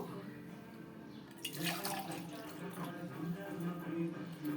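Water poured into a pot of rice for coconut rice, a faint splashing trickle that swells after a quiet start and carries on at close range, with a voice faint beneath.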